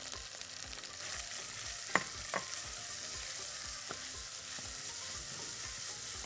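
Chopped medium onion sautéing with chicken pieces in a pan, giving a steady broadband sizzle with soft stirring scrapes and a couple of sharper utensil knocks near the start. No voices.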